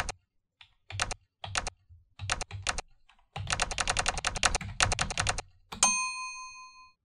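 Bursts of computer keyboard typing on a Linux desktop, played back with old-typewriter key clacks in quick irregular runs, then a bright typewriter bell ding rings out at the end.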